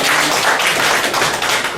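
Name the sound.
audience applause after a lecture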